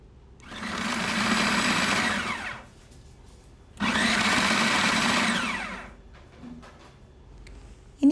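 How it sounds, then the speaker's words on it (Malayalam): A food processor whirs as it minces raw chicken, in two steady bursts of about two seconds each separated by a short pause, with light clatter afterward. "ഇനി നമുക്ക് ചിക്കൻ ഒരു പ്രോസസ്സറിലേക്ക് ഇട്ടൊന്ന് മിക്സ് ചെയ്തെടുക്കാം."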